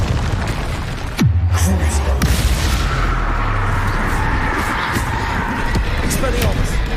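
Confringo spell blasts in a Hogwarts video game, a deep booming explosion followed by sustained rumbling and crackling, loud and close, with a voice shouting spell names over it.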